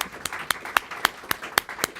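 A single person claps in a steady rhythm, about eight sharp hand claps spaced roughly a quarter second apart, fairly quiet and close, offered as applause at a hackathon opening.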